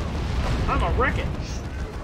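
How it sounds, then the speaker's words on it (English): Artillery strike in a Warhammer game, heavy booming explosions with deep rumbling low end and crackling debris, under what sounds like clipped voice chatter in the middle. "Artillery strike."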